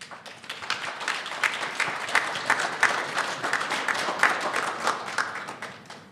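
A room full of people at a conference applauds, dense, steady clapping that swells and holds for several seconds before tapering off at the end.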